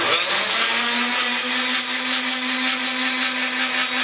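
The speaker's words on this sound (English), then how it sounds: "there's a drill motor here and a screwdriver head transmission there tied into the lead screw" A loud, steady drill motor whine drives a lead screw through a screwdriver head transmission, running continuously with an even drone that holds its pitch throughout.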